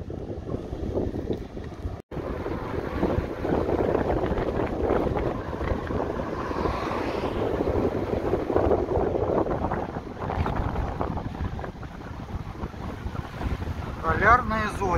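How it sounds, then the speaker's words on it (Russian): Headwind roaring across the microphone during a bike ride heading south from Kandalaksha toward Polyarnye Zori, a continuous loud rushing that stays steady throughout with no clear talk. "И ветер, соответственно, будет нам встречный все время"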